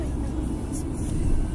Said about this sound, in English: Car. It's a car.